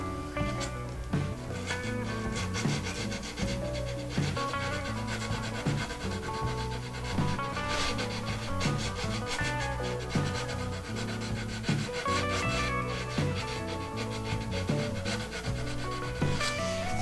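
Stripped wooden furniture being sanded by hand gives steady, rhythmic rubbing and rasping strokes, repeated back and forth at a close, even level throughout.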